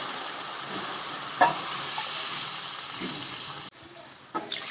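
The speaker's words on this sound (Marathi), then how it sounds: "त्याच्यामध्ये बघा दोन अडीच लिटर पाणी टाकले मी रस्सा पातळ सरवण्यासाठी" Water pours steadily into a pot of simmering horse gram curry, a continuous gushing wash that cuts off abruptly near the end, followed by faint bubbling and small clinks.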